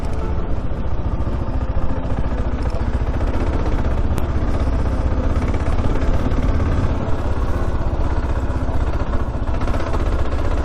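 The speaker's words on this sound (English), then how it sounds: "Oh, the old KLR just tractors along." An old Kawasaki KLR motorcycle chugs along a mountain road, its single engine note steady and loud with a constant low thrum and mechanical clatter, no voices.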